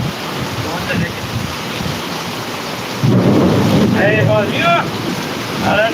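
Thunder rumbles loudly amid steady heavy rain in Jamkandorna, with a deep roll swelling midway while birds chirp faintly in the background.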